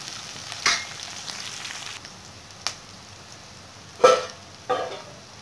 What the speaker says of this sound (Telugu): కొంచెం హైలో పెంచి కొద్దిగా వేపుకోవాలి